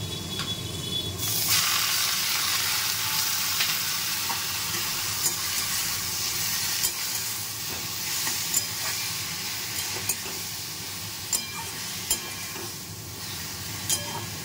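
Potatoes fry in one wok while greens are sautéed in another with garlic and dried red chilli in hot oil. A dense, continuous sizzle fills the whole stretch, punctuated by repeated light clinks of a spatula stirring against metal.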